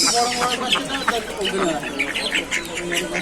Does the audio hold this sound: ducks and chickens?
yes